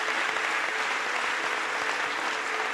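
A large crowd applauds steadily at a political speech event, with dense, continuous clapping throughout and no one talking over it.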